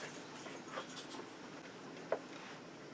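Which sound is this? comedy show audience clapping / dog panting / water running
dog panting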